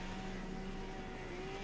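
A helicopter in the Modern Warfare II video game campaign, a faint, steady mechanical drone with a low engine hum under broad noise, without talk.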